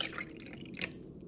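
White wine poured into a glass in the Fahrenheit (Indigo Prophecy) video game, a short liquid splash and trickle with a couple of brighter drip accents, close and fairly quiet, no talking.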